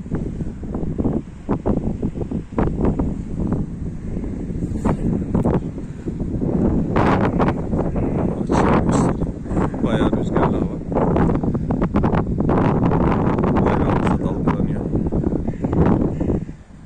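Gusty wind sweeps through trees outdoors, making a loud, continuous rushing and rustling with buffeting bursts against the microphone across the whole stretch.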